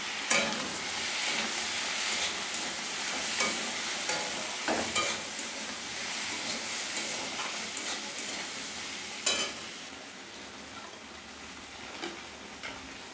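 Cut potato and eggplant sizzle in a pan with a steady hiss, broken by sharp clatters and scrapes as the pieces are stirred, close and fairly quiet.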